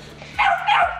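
A puppy gives two quick, high yipping barks close by over low background hum.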